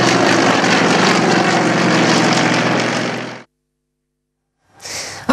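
A propeller airplane flying overhead and banking into a right turn, a loud sustained engine drone that cuts off abruptly partway through, then returns briefly after a silent gap.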